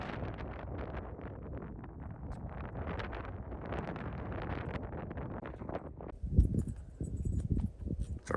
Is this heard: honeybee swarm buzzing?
no